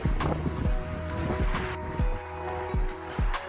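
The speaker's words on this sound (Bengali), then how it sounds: "এখানে হচ্ছে প্রচণ্ড বাতাস, আসলে কথা বলতে শোনাই যাচ্ছে না" Strong, cold wind gusting at a riverbank where the Baleswar meets its estuary, a loud steady roar with heavy rumbling buffets against the microphone and no voices.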